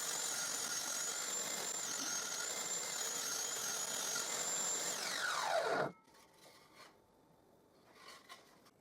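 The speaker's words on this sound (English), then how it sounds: "now I cut the 3 narrow pallet strips that I need" Power tool cutting narrow pallet wood strips, a steady loud whine with a rising cutting tone that runs down abruptly at about six seconds, followed by quieter handling clatter.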